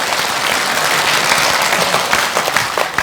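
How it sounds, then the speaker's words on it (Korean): A seated audience at a public forum on regional decline claps for a speaker being introduced. The applause is loud and dense, with individual claps standing out toward the end. "박수 한번 부탁드립니다"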